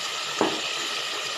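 Yogurt lands in hot biryani masala in a pot, setting off a brief soft burst of sizzling over a steady, faint background hiss of frying.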